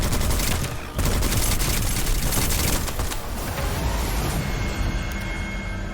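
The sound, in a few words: enemies firing guns in the video game Witchfire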